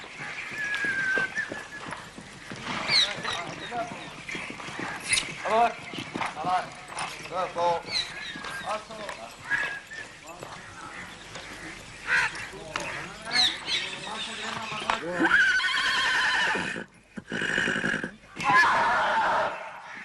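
A horse's hooves clip-clop in a steady rhythm, close and clear, with occasional whinnies, while people talk over much of the scene from an Indian drama series.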